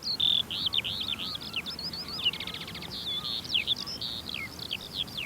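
Many birds sing together on open coastal burrows in spring, a dense, steady stream of bright twittering chirps and trills close by, with a rapid buzzing rattle partway through and no talking.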